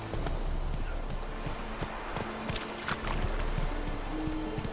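In The Witcher 3: Wild Hunt, a horse gallops in a quick, steady clip-clop rhythm of hooves, close and clear over a low game ambience, with no voices.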